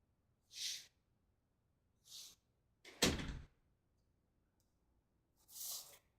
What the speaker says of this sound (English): I'm going to close the door so I don't wake up the house.